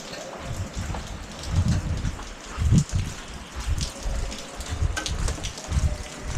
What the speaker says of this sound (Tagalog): Mapatak na naman ang ulan.